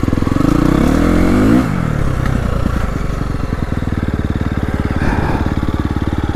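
A 2025 KTM 350 XCF Factory Edition dirt bike engine riding in cold 20°F weather, loud and close, a rising rev that drops back into a steady rapid thumping idle-to-cruise putter.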